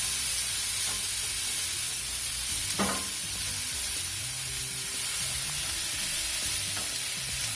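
Mushrooms sizzling in a hot pan for veggie ramen, a loud, steady, close frying hiss with a few faint stirring knocks and no talking.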